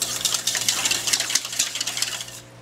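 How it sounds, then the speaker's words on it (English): Coconut milk, water, melted margarine and essence are whisked in a bowl, giving a quick, steady run of scraping and clinking strokes at close range with no talk. "So I'm just going to whisk everything."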